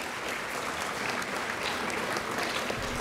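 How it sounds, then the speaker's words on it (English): Audience applause for the physics award winners at a junior-division science and engineering fair awards ceremony, steady and sustained clapping from a large crowd filling the whole stretch without pause. "let's give the physics awardees another round of applause"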